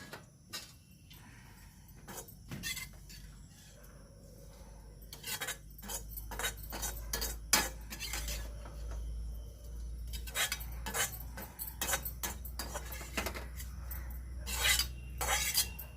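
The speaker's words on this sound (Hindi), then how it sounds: "खरबूजे के बीज और नारियल अच्छे से भुन चुका है, अब इन्हें भी बाहर निकाल लेते हैं।" Roasted melon seeds and grated coconut being scooped out of a pan, with repeated sharp metal scraping and clinking of a spoon against cookware in uneven bursts, fairly close, no talking.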